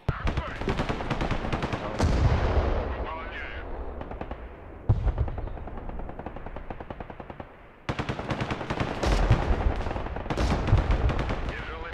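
Mortar and artillery fire in the war video game Broken Arrow, with dense bursts of rapid gunfire and heavy booms, briefly pausing before resuming loudly, while a player speaks occasionally.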